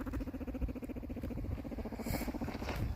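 Guinea pigs making soft, rhythmic chattering squeaks close by along with small movement sounds, a continuous rapid pattern throughout, with no talking.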